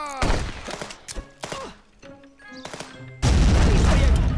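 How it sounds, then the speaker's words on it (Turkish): Grenade explosion in a police shooter video game that erupts into a loud, sustained roar after a series of gunshots and thuds, with no talk over it. "El bombası attı bana."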